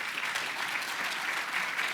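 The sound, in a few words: audience applause for the planning team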